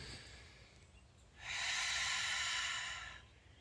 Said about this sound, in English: focused on my breath work. Breathing in